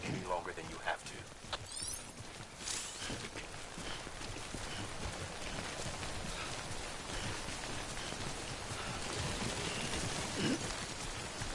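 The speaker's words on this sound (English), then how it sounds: "Don't stay out in the rain any longer than you have to." Timefall rain in the Death Stranding video game falls in a steady, dense hiss of droplets spattering on surfaces across the whole stretch, with some faint scattered knocks mixed in.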